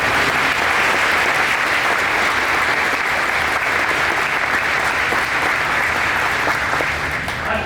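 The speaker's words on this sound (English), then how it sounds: "Let's give them all a round of applause." A large audience applauds continuously and loudly throughout a bourbon industry hall of fame ceremony in Kentucky, steady dense clapping filling the room from start to finish.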